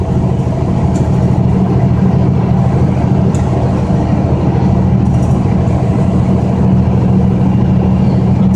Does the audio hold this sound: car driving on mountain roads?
yes